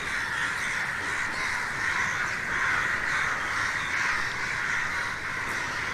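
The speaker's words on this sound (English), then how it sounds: "The reason you have this cacophony of crows just now is they actually think that a body is being brought" A large flock of crows caws loudly at the Zoroastrian Towers of Silence, a constant, overlapping cacophony of harsh calls that fills the whole stretch without a break.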